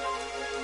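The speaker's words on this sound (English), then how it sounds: "It would have to go and start raining, wouldn't it?" Steady rain falling in the video game Dragon Quest XI, a continuous even hiss of drops on surfaces that fills the short stretch at constant level with no talk.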